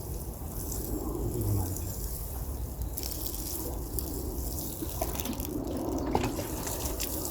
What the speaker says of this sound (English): Two watering can methods always good.